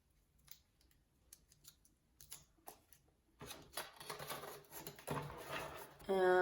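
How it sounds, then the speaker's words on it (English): Milk carton material being folded back and forth by hand to fill a homemade rain stick, giving soft, close crinkling and tapping that grows busier and louder toward the end, with no talk. "just fold it back and forth"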